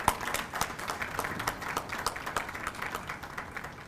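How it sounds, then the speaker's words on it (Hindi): An audience applauds Covid warriors at an Independence Day event, a steady patter of many hands clapping, faint and somewhat distant, with no talking over it. "एक बार जोरदार इनके लिए तालियां बजा दीजिए।"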